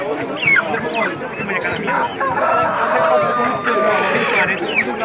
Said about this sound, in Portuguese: Aqui o cidadão tem muito peru, muita galinha boa.